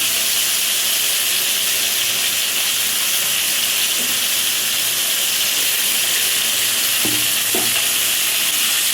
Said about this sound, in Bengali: এই যে জলটা ফুটে উঠে গেছে